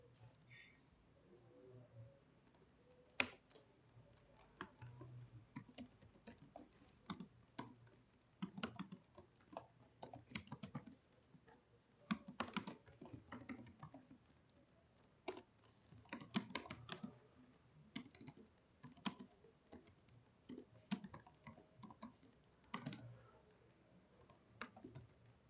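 Keys clatter in irregular bursts as someone types Python code on a computer keyboard, the clicks close and fairly quiet over a low steady hum, with pauses between runs.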